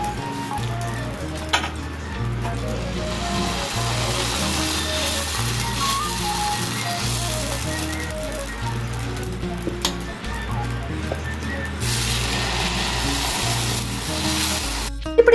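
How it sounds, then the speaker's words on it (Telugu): Set dosa batter sizzles steadily on a hot griddle, a continuous hissing fry heard up close alongside a repeating musical background throughout. "ఇప్పుడు సెట్ డోస్ వేసుకుంటున్నానండి"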